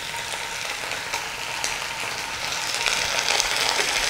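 Veg Manchurian sautés in a hot pan with a dense, continuous sizzle and crackle up close, with faint stirring scrapes and no talking.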